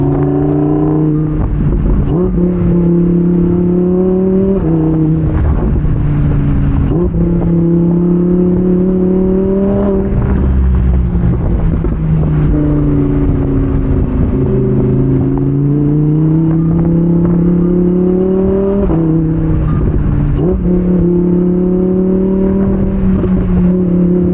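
A Lamborghini Huracan Evo Spyder's 5.2-liter naturally aspirated V10 revs loudly and continuously on a canyon drive with the top down, its pitch climbing and dropping through repeated shifts.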